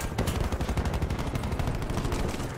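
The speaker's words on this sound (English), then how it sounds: "Getting shot at." Steady, dense bursts of automatic gunfire in Call of Duty: Blackout, a continuous close rattle of shots with no pauses and no talk.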